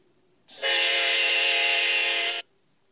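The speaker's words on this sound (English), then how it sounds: "This is a Amtrak" Amtrak train horn in the Trainz 2 mobile railway simulation game, one steady, loud chord blast lasting about two seconds with a sharp start and abrupt cutoff, heard alone.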